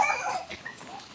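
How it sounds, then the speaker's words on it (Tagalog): A dog on a muddy mountain trail gives a short yip or whimper, close by, in a brief burst that fades quickly, with a faint voice nearby. "Hop, may aso."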